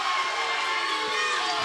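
Wrestling crowd cheering for Heath Miller during a match against Afa Jr, a dense, continuous roar of shouts and whoops filling the arena, loud and sustained.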